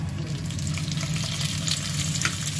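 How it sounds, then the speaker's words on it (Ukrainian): Borscht dressing frying in a pan gives a steady, close sizzle with soft crackle throughout, and no voices are heard. "викладаю на пательню борщову заправку"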